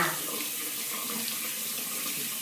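Water from a shower running and splashing onto an arm, a steady broadband rush that stays constant and close for the whole stretch, no speech.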